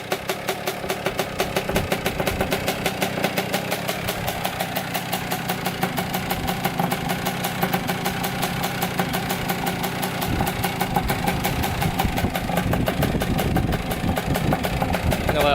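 A smoky Kawasaki KX 65 dirt bike warms up at idle: a close, steady two-stroke putter of rapid, even firing pulses that runs unbroken throughout, with no voices.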